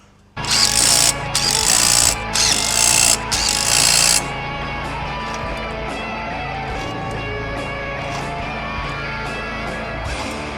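Nuts are tightened onto the rear sprocket carrier of a BMW S1000RR track bike with four loud, rapid bursts from a rattling power tool, followed by a steady lower mechanical whir.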